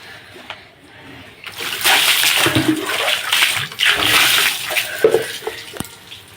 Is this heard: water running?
yes